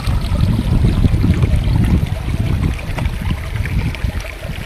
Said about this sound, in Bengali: এই হচ্ছে ধারা ফলস।